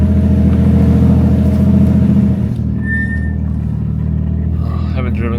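Toyota MK3 Supra pulling away, a close engine rumble with rising revs that drops and settles midway, followed by quieter running with a short chime and a voice near the end.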